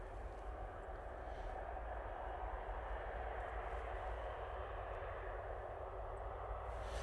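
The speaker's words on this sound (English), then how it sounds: "Hainan A330. Nice to see this aircraft again." Steady, broad jet engine roar from a Hainan Airlines Airbus A330 at an airport, continuous and moderately distant with no distinct changes.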